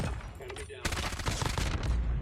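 Rapid SMG gunfire in the mobile shooter COD Mobile, dense bursts of sharp cracks that start abruptly and continue as sustained fire, with game sounds in the background.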